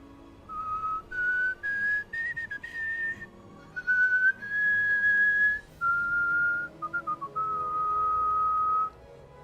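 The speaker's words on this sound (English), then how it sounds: "I'm trying to whistle" A person whistles a wandering melody in a series of clear, sustained notes with short breaks between phrases, close and fairly loud, with no talking.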